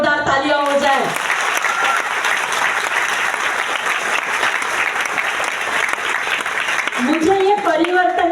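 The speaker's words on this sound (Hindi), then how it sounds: "उस संडे की सुबह के लिए जोरदार तालियां हो जाए" A seated audience gives loud, sustained applause for several seconds, with a voice speaking briefly at the start and again as the clapping fades.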